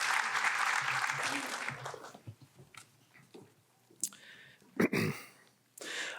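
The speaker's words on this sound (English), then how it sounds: "Let's give her one more round of applause, shall we?" An audience at a three-minute thesis competition final applauds at the start. The clapping fades after about two seconds into quiet room sounds, scattered coughs and brief noises.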